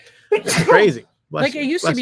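One sharp sneeze bursts out right before a person starts talking, close to the mic, with a brief pause before the speech goes on.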